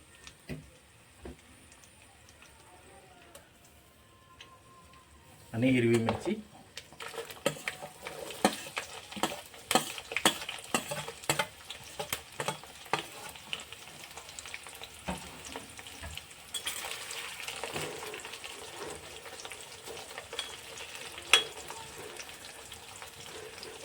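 Onion tumbles into a pot with whole spices for vegetable pulao and bursts into loud frying, a hissing sizzle broken by repeated scrapes and knocks of stirring over a long stretch after a quiet start.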